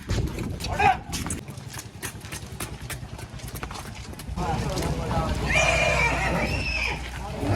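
A Kathiyawadi horse whinnies outdoors, its call rising clearly over hoof clatter and a low engine rumble, with people talking nearby.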